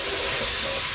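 Onions and garlic sweating in a pan for roast pumpkin soup give a steady, close, unbroken sizzling hiss that fills the whole moment without any talking.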